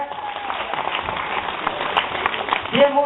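Applause from an audience greeting a performer walking on stage: steady, dense clapping that carries evenly throughout at moderate loudness, with a brief voice-like tone surfacing near the end.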